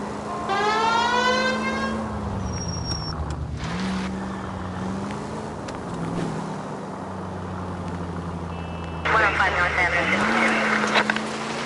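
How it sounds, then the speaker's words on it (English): A police car siren in the video game L.A. Noire wails with rising and falling sweeps at the start, over a steady car engine drone that continues after the siren fades, with a voice speaking briefly. "I think we need a siren."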